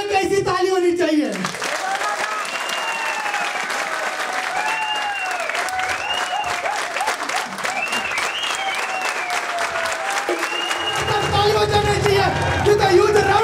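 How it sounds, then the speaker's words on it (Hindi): A crowd keeps up sustained, even applause, with whoops and cheering voices rising over the steady clapping throughout. "With a huge round of applause"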